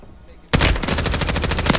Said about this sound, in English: now I'm getting shot from another team